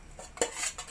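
A utensil scrapes and clinks against a pan while stirring squash jam mixture with butter, giving a couple of brief metallic scrapes close up, with no talking.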